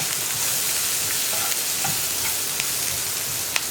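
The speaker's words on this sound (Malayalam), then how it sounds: "1 മിനിറ്റ് മഞ്ഞൾപ്പൊടി ചേർത്തിട്ട് ഒന്ന് ഇളക്കി കൊടുക്കുക കേട്ടോ." Turmeric powder frying in a pan on the flame for masala dosa filling gives a steady, even sizzle, with faint soft stirring scrapes and an occasional small pop, close and alone.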